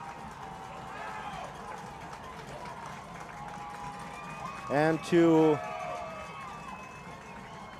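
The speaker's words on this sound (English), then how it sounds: "this Colgan crowd is getting loud" A crowd of spectators in the bleachers at a high school football game makes a steady, rumbling roar of voices and stomping, with a commentator talking over it and a brief louder burst midway.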